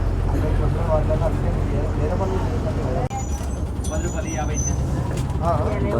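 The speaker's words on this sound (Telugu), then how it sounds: "బస్సులో చాలా రష్ ఉంది" Interior of a crowded local bus on a heavily trafficked road in rural India, with a steady low engine rumble and road noise throughout, people talking over it and a brief jolt near the middle.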